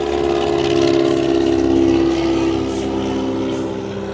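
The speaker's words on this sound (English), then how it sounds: "You got people flying planes over it." A loud, steady engine drone with a low tonal hum holds for several seconds, swelling slightly and then easing off, as an airplane passes overhead at an outdoor car show.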